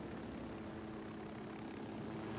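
A helicopter arrives in the video game Ghost Recon Wildlands, a faint, steady rotor drone that holds level throughout with no speech.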